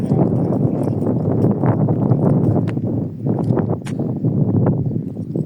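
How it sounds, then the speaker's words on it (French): Horses move about close by, their hooves clopping and shuffling irregularly over the ground with faint rustling between steps. "C'est qu'il y a trop de chevaux."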